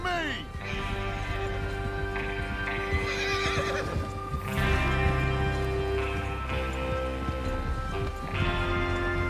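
Horses in Red Dead Redemption 2 whinny and neigh over steady galloping hoofbeats, with game music and talk running underneath throughout.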